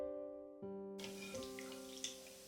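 Water sloshes and splashes as soaked cashew nuts are lifted out of a bowl in a kitchen. The faint splashing starts after a second of steady background hum and continues in small, close bursts.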